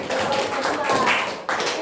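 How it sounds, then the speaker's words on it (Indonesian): A class group in an Indonesian classroom session claps hands together briefly, a quick burst of overlapping claps with a murmur of voices, close and moderately loud. "Tepuk tangan dulu."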